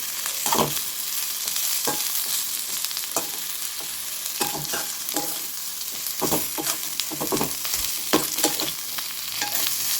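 Bitter gourd sautéing in oil for a South Indian kuzhambu gives a steady close sizzle, broken by repeated scraping stirs against the pan.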